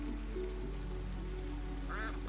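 Ducks in a fantasy shop simulator game give a single brief quack near the end, fairly clear over a continuous bed of soft game music.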